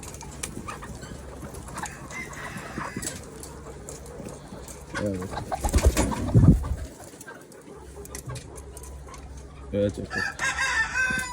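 Layer hens sitting in nests on a farm cluck and crow intermittently, with a louder burst midway, while a person talks nearby.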